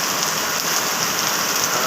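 Heavy rain pours steadily with water streaming off a roof in Maijdee, Noakhali, a dense, loud, continuous hiss with no breaks and no voices.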